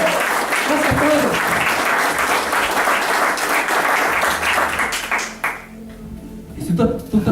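A church congregation applauds in sustained, dense clapping that fills most of the stretch before thinning out near the end, while a preacher's voice carries over it.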